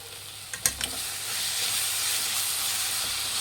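Mango rice (mavinakayi chitranna) mixed with coriander leaves in a pan, a few clinks of a spatula against the pan, then a steady low sizzle and hiss carrying on alone with no talk.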